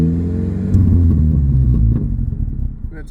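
A 2005 Chevrolet Cavalier engine runs close by, a steady low rumble that swells as it is revved, then settles back with an uneven, slightly rough idle.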